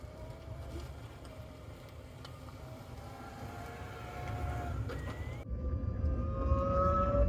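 Microlino electric microcar driving, heard from the noisy cabin with a steady low road rumble and rising whining motor tones that climb as speed builds.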